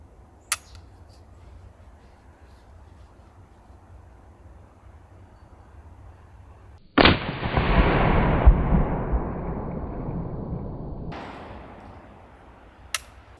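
A single loud blast from a smoothbore black powder pistol fired at 10 meters after a quiet stretch, its boom trailing off over several seconds, with faint clicks before and after.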